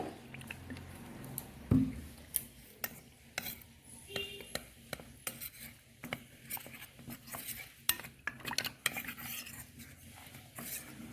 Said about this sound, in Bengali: একটু জল দিয়ে কর্নফ্লাওয়ারটা আমি গুলিয়ে নেবো